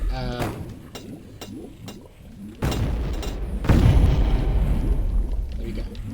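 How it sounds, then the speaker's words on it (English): Missile launcher barrages in the Shadow Warrior game, several deep booming explosions rolling one after another with sharp pops in between, heavy and close, mixed with talking. "Now I'm gonna let go some few barrages of"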